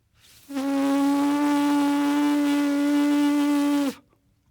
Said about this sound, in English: if you're getting a buzz like that, you're doing the right thing